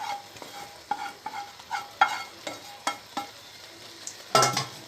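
Yogurt soup, Adıyaman-style meyir çorbası, being stirred in a pot, heard as a close series of scraping, sloshing strokes in an uneven rhythm. No one speaks.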